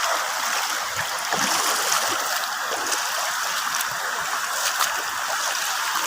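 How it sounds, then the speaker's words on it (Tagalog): Flowing water of a stream heard outdoors, a steady rushing and trickling wash that stays constant and fairly close throughout, with no voices. "Yung agos ng tubig guys, kita nyo."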